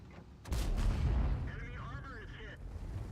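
A single loud tank cannon shot booms in World of Tanks, a deep blast that rumbles and fades, followed by a ringing shell whine and a faint voice under the tail.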